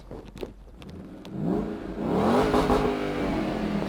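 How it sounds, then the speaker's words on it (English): A manual-transmission car engine revs up sharply and holds high, bouncing off the rev limiter in quick stuttering bursts, loud and close. "you're gonna hear the engine kind of like bouncing off the rev limiter"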